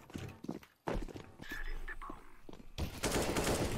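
Gunshots in CS:GO ring out among footsteps and game noise, with a few sharp cracks early and a louder burst near the end while players talk over them.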